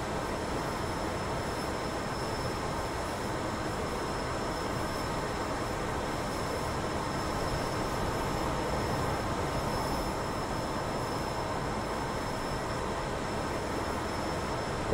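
A warplane's engine runs at full throttle with the supercharger off in the DCS World flight simulator, a steady, even, dense roar that holds without a break.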